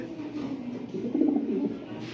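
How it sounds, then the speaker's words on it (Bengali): Racer pigeons coo softly at a pigeon breeding farm, with a brief, low throaty call rising near the middle against quiet background noise. "এগুলো অরিজিনাল রেসার কবুতর।"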